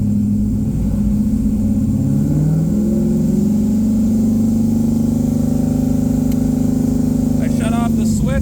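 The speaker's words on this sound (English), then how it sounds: "So we're gonna rev it up, get the pressure up a little bit." F-body car engine revving to build oil pressure with an oil accumulator charging, a steady loud mid-pitched drone that rises and holds under continuous running.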